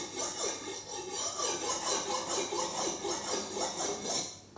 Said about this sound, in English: you might want to just sharpen it by doing this